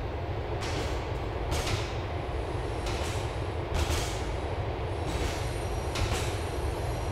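Train rolling along rails in Grand Theft Auto IV, a steady loud rumble with rhythmic wheel clacks over the track joints and faint high squeals, no voices.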